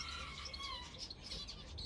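Budgies and finches kept together in an outdoor aviary chirp in a dense, continuous chatter of small high calls, steady and fairly faint throughout.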